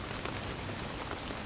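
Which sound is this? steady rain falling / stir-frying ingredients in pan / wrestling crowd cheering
steady rain falling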